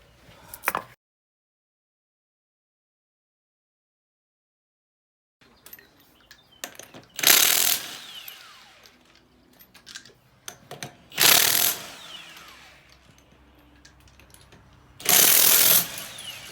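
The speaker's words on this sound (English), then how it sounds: "got that nut off that stud right there for the top" Ratchet wrench loosening the top nut on a Jeep Rubicon shock absorber stud during a Fox shock install: three separate bursts of rapid ratcheting clicks, close and fairly loud, with quieter handling clatter between them and a short click at the start.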